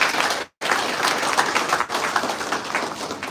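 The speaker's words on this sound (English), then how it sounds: "So can I have a huge round of applause for the management and the media team?" Audience applause at a biotechnology institute event, loud and sustained close clapping from a crowd that breaks off briefly near the start and then resumes.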